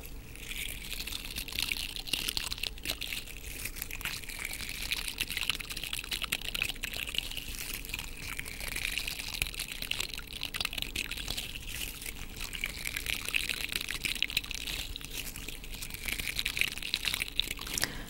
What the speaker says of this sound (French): ça fait penser à un bruit d'eau, un bruit de ruisseau un peu